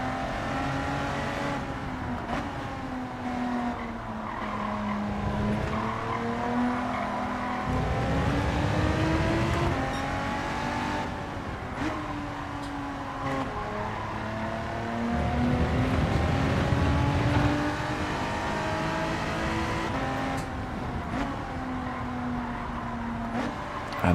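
A race car in Gran Turismo 7 braking into a corner and accelerating out, a steady engine drone whose pitch drops and climbs again as the revs fall and rise, continuous and fairly loud with no voices.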